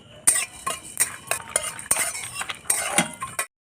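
A utensil scrapes and clinks against a kadai as coriander seeds, bay leaf and cumin are stirred while dry-roasting, in a series of sharp metallic taps and scrapes at an irregular pace, close and fairly loud, with no talk.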